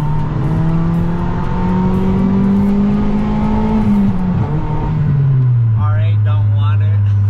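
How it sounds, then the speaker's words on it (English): A Mazda Miata with a Greddy Evo 2 exhaust and muffler delete revs hard, a loud, near, raspy drone climbing in pitch before dropping to idle, with a voice speaking briefly near the end. "This is how the Miata sounds."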